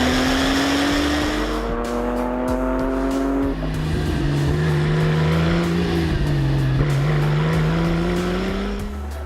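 A Porsche 959 sports car drives steadily, its engine note climbing through gears with a gear change midway, close and loud throughout with no talking.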